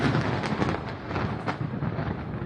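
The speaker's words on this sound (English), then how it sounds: "we also did get to see a major munitions depot getting hit pretty hard" A munitions depot explodes in war footage: a heavy, rumbling blast that rolls on like thunder, broad and dense throughout with a few sharper crackling bursts inside a continuous roar, heard from a distance.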